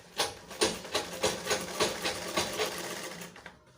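A sewing machine stitches a smocked, shirred top in a fast run of rhythmic mechanical bursts, close and alone, then the motor winds down to a stop.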